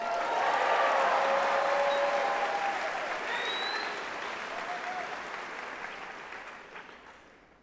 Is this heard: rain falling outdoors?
no